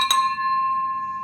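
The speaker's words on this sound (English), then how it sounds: "I got to ring the bell for this." A bell is struck once, sharply and close, and its bright metallic tone rings on clearly, fading slowly with no other sound around it.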